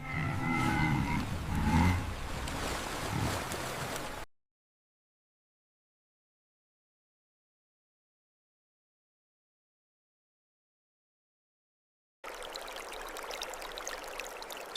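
River water flowing during a wildebeest migration: a steady, broad rushing wash for about four seconds, then a long silent gap before the flowing sound returns near the end.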